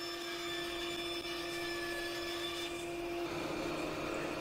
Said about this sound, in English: And over to the bandsaw to rip it down now